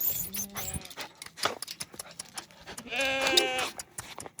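A black sheep bleats close by at a campsite: a short call at first, then a longer, wavering bleat near the end, with faint rustling in between.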